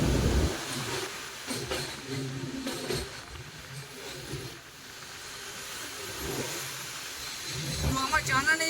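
A train on the Kolkata to Meghalaya route slows down, giving a continuous rumble and hiss with faint rhythmic rattles that builds slightly toward the end.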